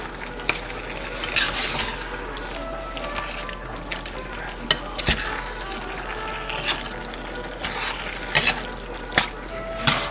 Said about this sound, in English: Notice how I'm kind of folding the meat into the sauce